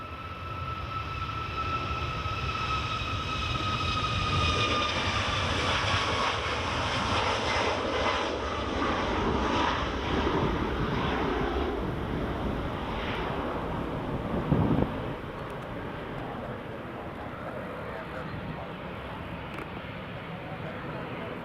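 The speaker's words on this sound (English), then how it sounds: "Here goes the Ryanair with the dodgy looking nose cone" A Ryanair airliner rumbles past at Edinburgh Airport, a long swelling and fading engine roar with a faint whine, heard at some distance beneath people talking.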